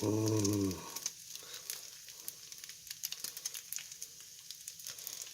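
Bacon frying in a pan, a close, quiet crackle and sizzle with scattered pops; a brief tonal hum sounds at the start before the frying continues alone.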